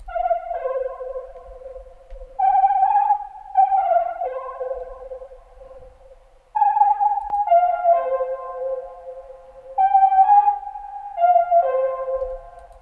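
A smooth synth lead with a chorus effect plays a slow melodic line of sustained notes with a shimmering, slightly doubled, widened tone and short gaps between phrases.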